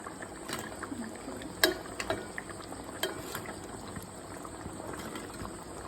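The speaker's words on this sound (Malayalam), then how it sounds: "ആ വരാലിൻ്റെ മുകളിലോട്ട് നമ്മൾ ആ തിളച്ച അരപ്പ് നമ്മൾ ഒഴിക്കുവാണേ" Hot, boiling spice paste is poured over a whole snakehead fish in a rustic village kitchen, giving a steady bubbling sizzle with a few sharp metallic clinks and knocks close by.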